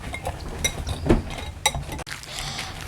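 A spoon clinks against a bowl while stirring an Oreo dirt cup mix, with a handful of light, close clinks and scraping taps at uneven intervals, and no one speaking.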